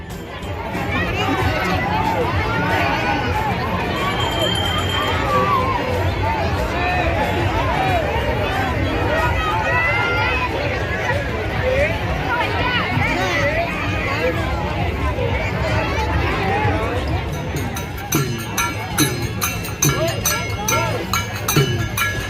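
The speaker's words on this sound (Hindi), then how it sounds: "कितनी सारी भीड़ है यहाँ पे।" A dense crowd gathered at a temple on Navami festival day, continuous loud babble of many voices close by, with faint bells and clinks ringing through the din.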